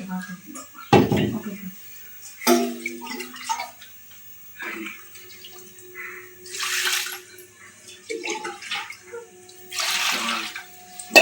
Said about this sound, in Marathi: तोपर्यंत आपण तांदूळ धुवून घेऊ.